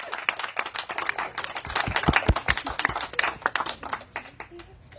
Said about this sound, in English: Let's give Nancy a round of